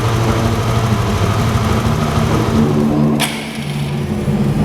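A nearby engine idles steadily while its idle fuel mixture is adjusted, giving a loud, even, low rumbling drone with a brief dip in level partway through.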